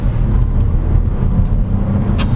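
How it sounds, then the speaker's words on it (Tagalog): Cabin drone of a 2022 Geely Azkarra Luxury SUV's all-wheel-drive 3-cylinder mild hybrid engine while driving, a loud, steady low rumble mixed with road noise, unbroken throughout and without talking. "You can hear the engine, which is great. That's a nice sounding 3-cylinder engine."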